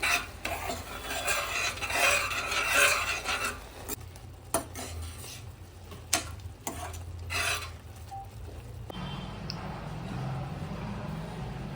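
Spoon stirring and mixing a grape and chili sauce seasoned with black salt, a steady scraping and sloshing in a pot that carries on for several seconds and then gives way to a quieter, even background.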